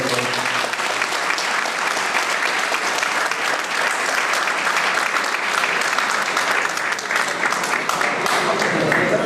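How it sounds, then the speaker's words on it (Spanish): A large crowd at a lawyers' event claps steadily and loudly for several seconds, a dense, sustained round of applause with no talking. "Brindemos un fuerte aplauso."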